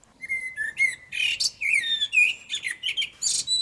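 A blackbird sings alone, a flowing run of rich fluting whistles and twittering phrases, clear and fairly close against a quiet background.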